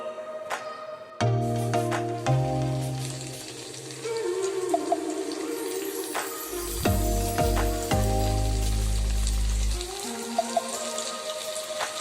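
Chicken pieces for KFC-style popcorn chicken drop into hot oil and fry with a bright, bubbling sizzle that swells and eases in bursts, close and fairly loud.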